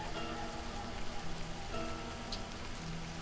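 Steady rain falls in the video game Livber: Smoke And Mirrors, a dense, even patter of drops hitting surfaces that holds at the same moderate level throughout with no talking.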